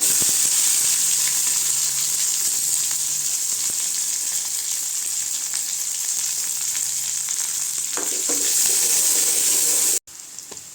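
Onions fry in hot oil with dried red chillies and curry leaves for a cluster bean stir-fry, making a loud, dense, continuous sizzle close up that cuts out abruptly near the end.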